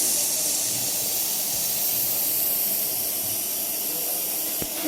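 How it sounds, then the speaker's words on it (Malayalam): Hibiscus flowers boil in a pot of water, producing a continuous hissing, steamy rush at close range, with no voices. "അപ്പം നമ്മുടെ ചെമ്പരത്തിപ്പൂവൊക്കെ നല്ലോണം ഒന്ന് തിളച്ചിട്ടുണ്ട്"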